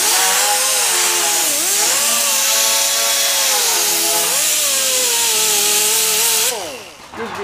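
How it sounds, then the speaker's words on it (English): Sandpaper on a power tool works a brass leaf. A loud, continuous motor whine rises and dips in pitch as the load changes, then winds down near the end. "Now we go with sandpaper."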